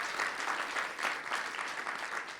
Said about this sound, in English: Let's give the Robin Hood Foundation a round of applause